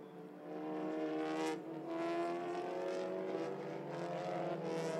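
TCR touring race cars accelerate away after a safety car period at Oschersleben, a loud sustained engine roar with rising and shifting tones as the pack heads down the straight.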